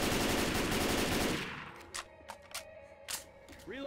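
Gunfire from the video game Left 4 Dead 2 in a custom campaign: a dense, loud burst of rapid automatic shots lasting over a second, then several separate single shots with short gaps between them.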